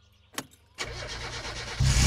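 A car engine starts in the video game My Summer Car, with a short click, then a cranking catch that settles into a running idle and grows louder near the end, no talk.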